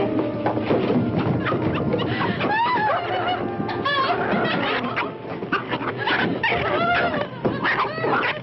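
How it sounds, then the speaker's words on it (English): A small dog whimpers and whines in a high, repeated sequence of short cries against a busy 1962 film soundtrack with other vocal sounds mixed in. "But he's just a little dog."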